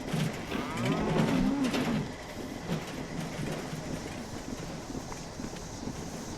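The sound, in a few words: cow mooing in Fallout 76 video game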